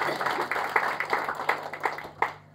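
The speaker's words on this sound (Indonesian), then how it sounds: "Beri tepuk tangan terbaik buat Tuhan." A church congregation claps during a sermon, the claps fairly faint and spaced in a loose, steady rhythm for a couple of seconds before stopping.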